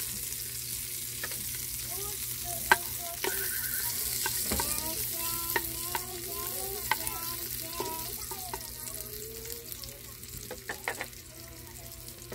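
Ingredients sizzle and are stirred in a hot pan while being sautéed for a native chicken soup, a steady close frying hiss broken by scattered utensil scrapes and clicks.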